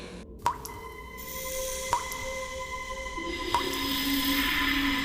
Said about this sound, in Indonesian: suara air menetes terdengar dari kamar mandi